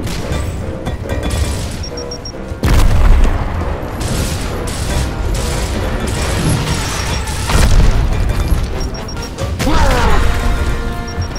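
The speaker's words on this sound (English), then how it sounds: "Marcus, grab the grenades. Get a frag in there!" A frag grenade blast in the video game Gears of War, a loud booming crash that punches in sharply amid ongoing clattering combat effects, with further heavy impacts following over several seconds.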